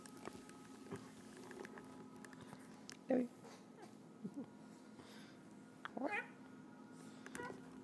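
A cat meows to be let in, giving two short, faint cries amid quiet room noise and a low steady hum while a person talks softly.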